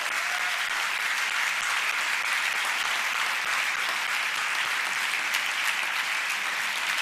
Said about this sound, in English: let's just give him one more round of applause